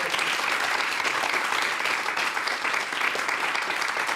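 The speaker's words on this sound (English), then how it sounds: "I think that's a round of applause, tremendous." A studio audience on a late-night Australian comedy show gives a steady round of applause, a dense, even wash of clapping heard alone at moderate level throughout.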